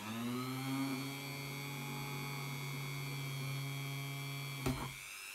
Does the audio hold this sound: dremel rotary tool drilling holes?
yes